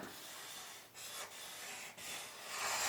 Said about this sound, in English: And I'm rubbing out whatever is in the hair.